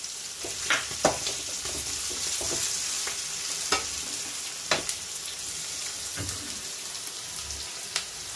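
Chopped vegetables for vegetable upma sautéing in a pan, a steady soft sizzle broken by occasional scraping stirs and light clacks of the spoon.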